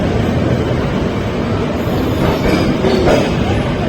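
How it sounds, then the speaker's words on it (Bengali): Sealdah–Puri Duronto Express running at speed after leaving Kharagpur, heard from inside as a loud, dense rumble of wheels and carriage noise with faint rhythmic rail clatter, continuous and without speech. "খড়গপুর থেকে ট্রেন চললো পুরীর দিকে"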